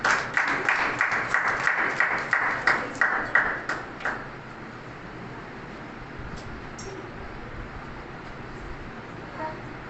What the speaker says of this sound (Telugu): అందరు చప్పట్లు పెట్టి ఆహ్వానించిన కోరుకుంటున్నారు.